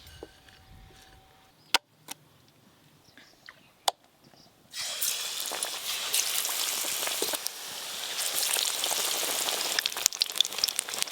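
Ash gourd slices coated in gram-flour batter hit hot oil and sizzle loudly, a dense crackling hiss that starts abruptly after a few sharp knocks and keeps going steadily.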